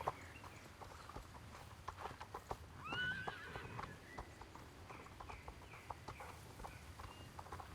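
A horse cantering in the Star Stable Online video game: steady rhythmic hoofbeats with occasional whinnies and bird-like farm sounds, soft and even in level throughout.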